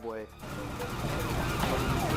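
A fire truck siren wails loudly and continuously with rising and falling sweeps as the truck responds to a plane crash and burning house, up close with heavy rumbling underneath.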